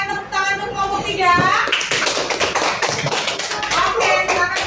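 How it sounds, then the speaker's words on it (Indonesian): Schoolchildren in a classroom clap for a group of classmates after their presentation, with quick scattered hand claps rising over lively kids' voices and a teacher talking. "Berikan tepuk tangan untuk kelompok 3."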